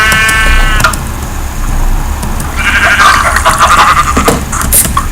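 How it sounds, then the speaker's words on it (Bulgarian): Sheep in the Minecraft video game bleat loudly twice, with short clicks and game noises between the calls. "Овца."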